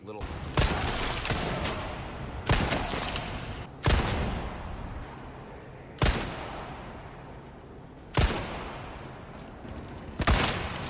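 Gunfire in the Resident Evil 4 Remake Inferno mod: five sharp, loud shots spaced a couple of seconds apart, each with a reverberant tail, over steady game ambience and background noise.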